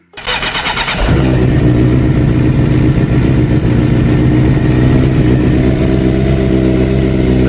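A Suzuki GSX-R 600 motorcycle engine cranks with a brief starter whir and catches about one second in, then settles into a loud, steady idle that runs close and continuous to the end with no talking.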